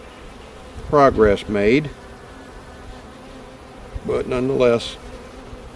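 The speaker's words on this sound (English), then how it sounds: "there are bees over here, so they're probably working on it" Honey bees hover around frames pulled from a hive during an inspection, a faint, steady buzz running beneath two short bursts of someone talking.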